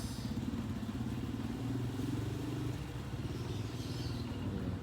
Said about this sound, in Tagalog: Kines-drive niya muna yung motor ko.